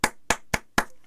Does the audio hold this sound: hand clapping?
yes